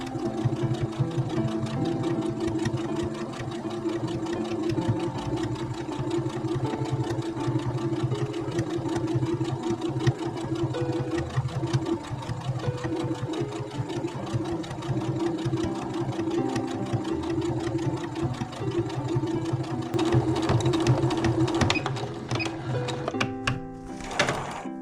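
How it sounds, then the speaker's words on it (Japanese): Sewing machine running steadily as it topstitches along the edge of a fabric pouch, a continuous close mechanical whir with a few brief pauses and handling clicks near the end. "そしたらここもう一回端ミシンをかけます。"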